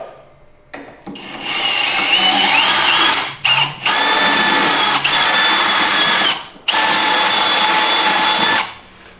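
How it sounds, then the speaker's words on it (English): A power drill whines loudly up close in three long bursts separated by short pauses, its pitch shifting slightly as it drills out metal rivets on a Ski-Doo Gen 5 snowmobile skid plate. "we're gonna drill out these 3 rivets"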